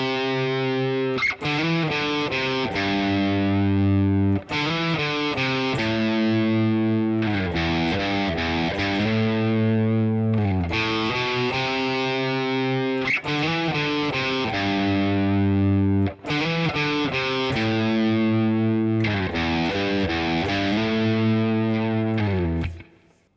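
Distorted electric guitar plays the break section of a song in standard tuning, sustained chords and picked notes ringing in a loud steady sequence of phrases with brief gaps, no voices.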